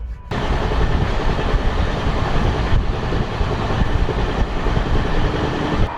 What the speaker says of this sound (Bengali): তো আমাদের ট্রেন এখন ফুল স্পিডে বানারসের দিকে ছুটে চলেছে